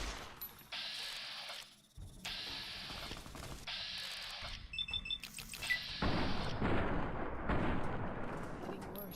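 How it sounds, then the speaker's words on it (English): Grenade explosions in Fallout New Vegas: heavy booms and bursts of gunfire overlap in a loud, chaotic firefight, with deep rumbling blasts growing denser toward the end and voices talking underneath. "They got grenades."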